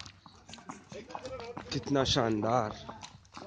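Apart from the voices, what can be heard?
horse hooves clip-clopping while riding on horseback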